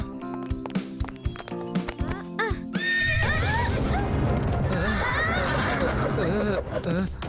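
A cartoon horse whinnies loudly and shakily midway through, over background commotion and voices, after a stretch of scattered knocks and music-like tones.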